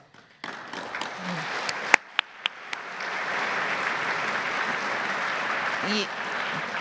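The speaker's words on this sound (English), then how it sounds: "if the public officials that have joined us this evening would please rise and be recognized, and we can clap again" An audience at a governor's Holocaust remembrance program breaks into sustained applause that swells and holds steady, with a few sharp louder claps early on and a voice faintly audible near the end.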